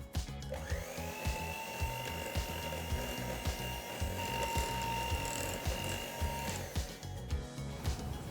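An electric mixer whirs steadily while beating eggs into bread dough for Korean brokies or garlic mantou, with a rhythmic mechanical rattle of beaters against the bowl and a sustained motor whine throughout, close and fairly loud, no speech.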